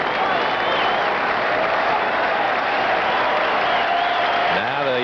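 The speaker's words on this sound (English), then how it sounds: "Now the Yankee fans start their hand clapping for the strikeout" Yankee fans packed into a baseball stadium during a 1981 playoff game against the Brewers, a steady wash of crowd noise and applause holding at the same loudness throughout, with a commentator talking over it.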